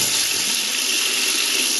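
Tap water running steadily while filling for home brewing an IPA, a continuous loud hiss and splash with no break and no voices.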